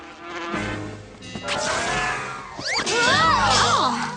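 A mosquito whines close by in an animated cartoon, a thin buzzing drone that rises and falls, with swooping pitch sweeps as it circles, loud and alone without talking.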